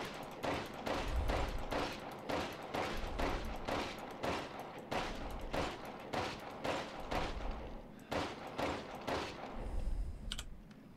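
Pistol shots in Resident Evil Village ring out in a steady rapid series, about fifteen evenly spaced sharp cracks with brief decays, loud and close with no talking.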